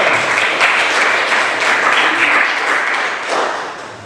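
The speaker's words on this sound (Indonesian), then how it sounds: "Boleh aplaus tepuk tangan." A classroom audience applauds a student group after their presentation, with steady dense clapping from many hands that thins slightly toward the end.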